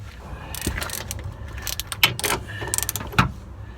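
Ratchet wrench clicking while a rear shock mount bolt is tightened on a Cobalt SS, heard as a few sharp, close clicks over low mechanical noise.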